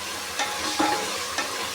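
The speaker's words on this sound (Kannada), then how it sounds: "ತರಕಾರಿ ಎಲ್ಲ ಫ್ರೈ ಮಾಡ್ಕೊಬೇಕು" Cabbage, beans, carrots, chayote and brinjal frying in a pan, with a steady soft sizzle and a few scraping stirs close by.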